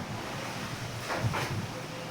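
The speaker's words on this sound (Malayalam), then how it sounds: "നല്ല കാറ്റുണ്ട്" Low, steady wind rumbling against the microphone, fairly faint and continuous, with a slightly stronger gust midway.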